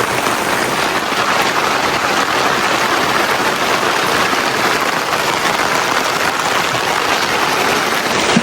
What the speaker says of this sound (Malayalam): ഫുള്ള് മഴ, ഫുള്ള് വെള്ളത്തിൽ കേട്ടോ